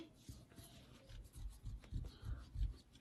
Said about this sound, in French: Tu peux me gommer là.